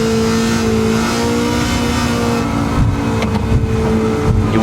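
Car engine in a video game drag race down a highway straight, Wangan Midnight style street racing; a loud, sustained engine roar at high revs, holding steady with a slight shift in tone near the end.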